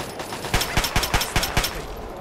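Gunfire rings out in Fallout 3's Operation: Anchorage DLC: a rhythmic burst of about seven loud, sharp shots at close range, fired in quick succession with no talking.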